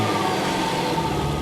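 A Chevy SS with an SLP Loudmouth axle-back exhaust fires up, heard as a sustained, fairly loud engine roar with a throaty low rumble running throughout.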